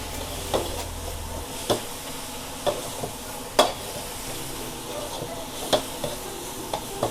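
Noodles stir-fried with shallots in a pan crackle with a steady low sizzle, punctuated by occasional sharp scrapes and clacks of a utensil against the pan at irregular intervals.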